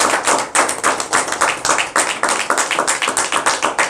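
A congregation at a home prayer meeting claps for Jesus in a fast, steady rhythm, loud and close, many hands striking together in even repeated bursts.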